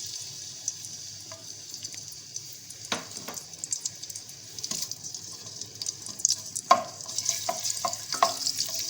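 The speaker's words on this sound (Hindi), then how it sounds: "जब ये गर्म हो जाएगा तो ये लहसुन के जो जवे हैं ये डाल दूँगी।" Soft, steady sizzling of garlic cloves frying in hot oil, with a few clinks and scrapes from a utensil in the pan.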